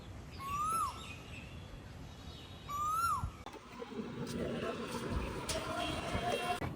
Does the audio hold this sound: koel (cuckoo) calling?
yes